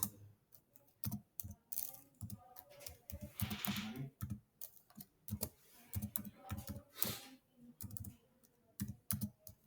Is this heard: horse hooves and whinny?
no